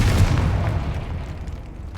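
Confringo explosive fire spell in Hogwarts Legacy on PC: a heavy, booming explosion already underway, its low rumble decaying steadily into a softer crackle over about two seconds.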